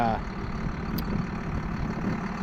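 A tractor engine lugs at low revs: a low, steady drone rumbling unevenly, close and continuous, with a faint higher whine above it.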